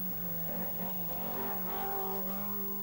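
A 1981 rally car races at speed down a downhill stage of the Welsh Rallysprint, its engine droning and shifting pitch as it revs, heard from a distance under steady faint background noise.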